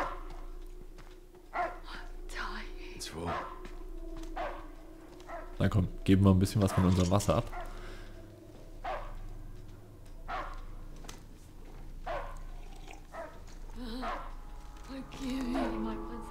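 Dog barking in the Mad Max video game, a few sharp barks clustered mid-clip amid steady game ambience, with people talking over much of it.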